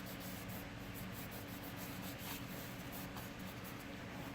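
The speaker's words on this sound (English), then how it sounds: "All I'm doing is rubbing this thing, make sure it's nice and clean." A Kydex knife sheath coated with WD-40 is rubbed clean, giving a faint, steady scrubbing hiss with soft repeated strokes and no talk.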